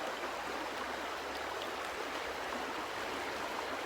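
Cool stream water flows steadily through English countryside, a continuous, even broadband rush with no breaks, close and moderately loud, heard alone.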